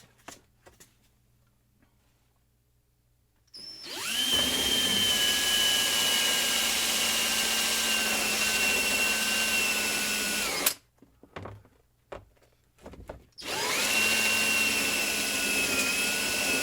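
Power drill spinning a 1 1/4-inch hole saw bores through material, a loud steady whine starting after a few quiet seconds, cutting out briefly with a few short bursts, then resuming for a second long run.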